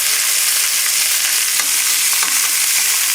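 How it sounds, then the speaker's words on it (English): Big chunks of garlic frying over a high flame for chicken stew, a steady loud sizzle with faint crackles and pops, close and alone with no voices. "I like to roast the garlic in big chunks"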